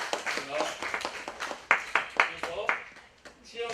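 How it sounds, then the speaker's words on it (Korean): At a high-school youth service in a church, a small group claps in a brisk run of sharp, uneven claps, mixed with someone speaking. "다시 박수 해주시면"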